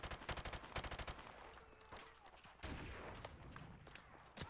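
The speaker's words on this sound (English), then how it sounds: "That is definitely shooting at me." Gunfire in Call of Duty: Modern Warfare Remastered, starting with a quick run of rhythmic automatic shots, then scattered single shots over a steady rumbling backdrop.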